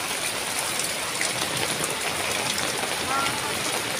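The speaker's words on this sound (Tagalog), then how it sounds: "Malakas ang ulan" Heavy rain pours down in a dense, constant hiss, drumming steadily on surfaces nearby without letup, on a street empty of passersby.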